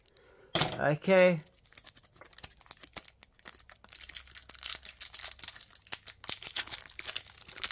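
Scissors cut open a Pokémon card booster pack at close range, a few quick crisp snips and crinkles of foil wrapper, followed by faint rustling and clicking as the pack is handled; a voice speaks briefly at the start.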